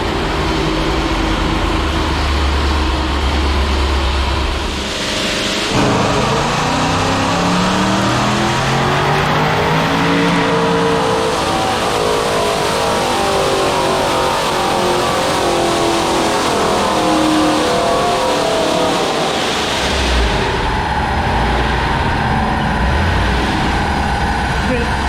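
A 971 hp ProCharged, cammed 5.7 Hemi in a Dodge R/T roars through a full pull, its pitch climbing steadily as the engine winds up, loud and close, then dropping off sharply near the end before resuming.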